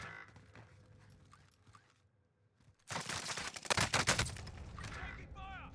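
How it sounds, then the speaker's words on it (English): Close, dense bursts of automatic gunfire erupt after a quiet stretch in Call of Duty Warzone on Rebirth Island, rattling loudly for several seconds while a voice briefly speaks near the end. "Taking fire."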